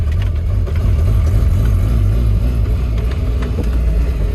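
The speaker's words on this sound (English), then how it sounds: "Try for second. All right. Well, she bucks." A 1984 Volvo 240 bucks and lurches in second gear, its engine giving a loud, steady low rumble with uneven surges throughout, close up.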